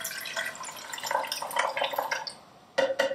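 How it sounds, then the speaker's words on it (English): Hydrogen peroxide poured into an Erlenmeyer flask for an elephant toothpaste experiment, giving a close, steady liquid splashing and trickling that fades near the end, followed by two brief clinks. "So first I'm going to take the hydrogen peroxide and pour it into"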